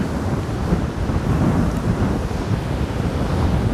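Steady roar of strong wind buffeting the microphone on a beach in Anapa on the Black Sea, mixed with the wash of surf, continuous and loud with no voices.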